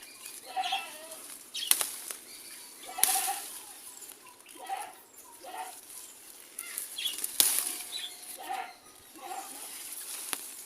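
Birds flap their wings in several brief fluttering bursts, near and fairly faint, separated by quiet gaps with a few sharp snaps and soft background sounds.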